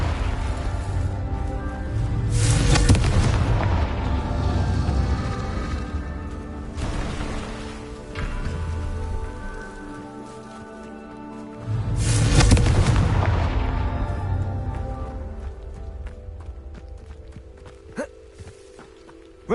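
Blasting-spell explosions in a Harry Potter-style video game, three heavy booming bursts spaced several seconds apart, each a loud broadband blast decaying into rumble, with game music underneath and no talk.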